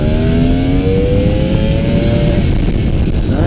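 An inline-4 motorcycle engine revs up to its redline, pitch climbing steadily and loud and close before the note breaks off into a rough idle-like rumble.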